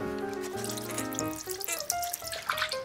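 Water runs and splashes into a container for a PVA glue and water papier-mâché mix, with ringing, shifting tones as the vessel fills, close and fairly loud.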